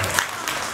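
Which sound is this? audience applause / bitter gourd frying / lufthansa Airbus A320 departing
audience applause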